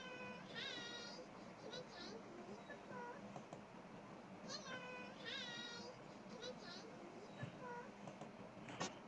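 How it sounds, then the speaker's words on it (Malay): A cartoon cat character meows in repeated short calls over a busy background with children's voices and play sounds, fairly faint overall. "memperkenalkan Pupu yang merupakan karakter kucing"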